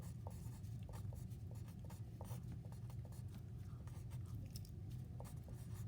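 Pencil or pen writing by hand on a scratch sheet of paper, a steady scratchy scribbling with small taps and pauses between strokes, close and continuous over low background hum.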